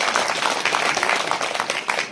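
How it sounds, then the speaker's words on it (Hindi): An audience at a Hindi poetry recitation gives a short round of dense, steady applause, close and fairly loud. "बाकी आप जोरदार ताली बजा दो"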